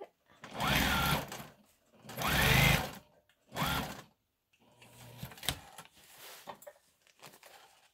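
Sewing machine stitching a prom dress hem with horsehair braid, three loud close whirring bursts of a second or so each, followed by quieter fabric handling and faint rustling.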